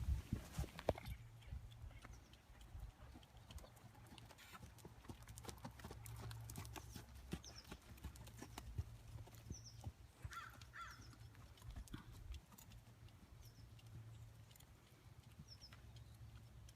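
Hooves clip-clop in a steady walking rhythm while one horse is ponied beside another, fairly faint and outdoors, with crows cawing in the background.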